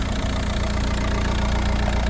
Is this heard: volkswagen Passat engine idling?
yes